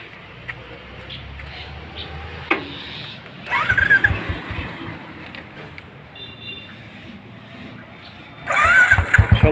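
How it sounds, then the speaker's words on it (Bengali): A Royal Enfield motorcycle is kicked into life outdoors near an eco park in Manu, Tripura, engine catching midway then settling into a low idle thump, revving up louder near the end, with birds faintly audible. "এই যে এই বাইকটা নিয়ে যাব, আমরা ঘুরে আসব।"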